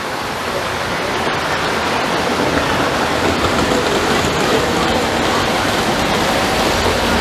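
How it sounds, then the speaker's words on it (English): Metal standard gauge toy trains run over a layout at a toy train museum in Tucson, making a loud, continuous rushing rumble of wheels on track that holds steady throughout. "They got trains running in every which direction on this track."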